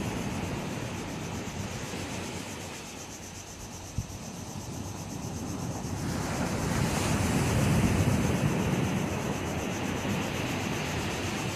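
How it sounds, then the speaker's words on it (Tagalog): Strong wind roars steadily into the microphone over crashing surf at Nagtabon Beach, Palawan, swelling louder midway, with a single brief knock partway through. "Malakas sa hangin."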